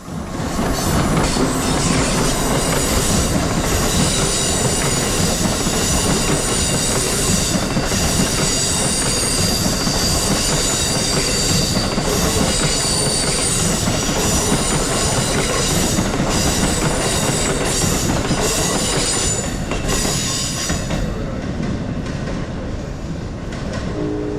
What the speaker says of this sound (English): The first train seen cutting through the dark and stormy night was westbound Amtrak Regional Train 177 on Track 3